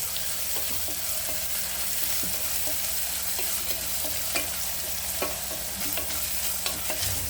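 Chopped onions sauté in a pan for Kongu-style arisi paruppu sadam, giving a steady close sizzle with scraping stirs throughout and no talking.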